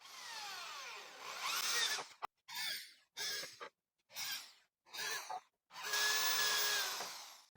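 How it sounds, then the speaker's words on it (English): Power drill boring into wood with a 2mm bit for screw holes, a whirring whine in several short bursts separated by pauses, close and loud. "Initially, the drilling will be done with a 2mm drill bit"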